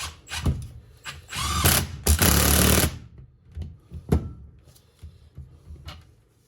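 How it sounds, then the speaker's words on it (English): An impact wrench tightens a nut onto a BC Racing coilover during a refurbish. It sounds as a few short, loud, rattling bursts close by, with metallic clanks and knocks before and after. "So now I'm going to put the nut back on, impact it."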